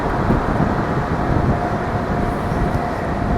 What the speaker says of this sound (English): let the train pass by. Film the train coming in.